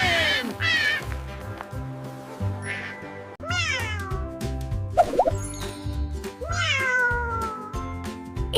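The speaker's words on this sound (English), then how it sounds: "It's a cat." A cat meows several times in drawn-out, rising and falling cries, loud and close, with a musical backing in the pauses between calls.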